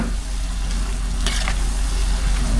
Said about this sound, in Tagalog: Gisa-gisa lang natin ito hanggang sa medyo matuyo siya